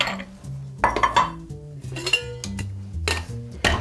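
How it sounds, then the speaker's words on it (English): Ice rattles and clinks inside a cocktail shaker as a blue margarita with blue curacao is mixed, producing bright, uneven metallic chinks in quick bursts, close and fairly loud, with no talk. "we're going to grab some ice and we're gonna shake this for a good 10 to 15 seconds"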